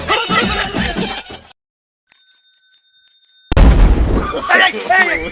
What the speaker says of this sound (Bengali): যুদ্ধ বাঁধেনি, টায়ার পাংচার হয়ে গেছে